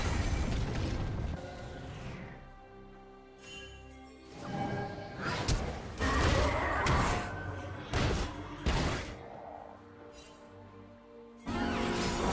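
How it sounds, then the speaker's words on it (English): Turret destruction in a League of Legends match, with a string of loud bursts, booms and mechanical crashes over ongoing game effects, some sharp and some rumbling. "Red team's turret has been destroyed."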